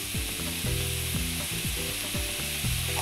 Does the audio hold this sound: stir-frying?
yes